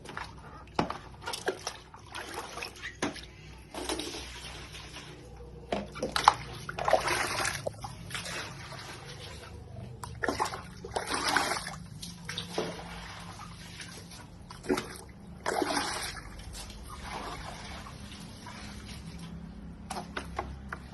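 Water poured into a washing basin during a Lao school laundry-washing demonstration, coming in several irregular splashing, sloshing bursts over a low steady room background, moderately close.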